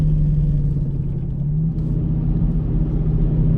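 A supercharged Coyote V8 car pulls hard down the main straight at The Bend racetrack, its deep, loud engine drone sustained and steady throughout with no voices.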